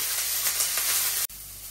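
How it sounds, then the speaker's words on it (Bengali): Potatoes sizzle in a hot pan with salt while cooking fried rice, a close, steady hiss that runs continuously, cuts out abruptly, then resumes more quietly. "লবণ দিয়ে দিই, লবণটা এটা ভাজা ভাজা করে নিই।"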